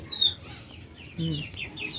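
Chickens cluck in an indoor coop, a few soft rising calls and short clucks spread across the moment, close and fairly quiet, with a brief murmur of low sound between them.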